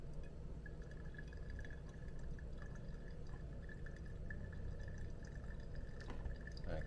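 Water trickling and dripping through a Hario V60 pour-over coffee brewer, a faint, steady liquid patter against a low background hum, with a few clearer drips near the end.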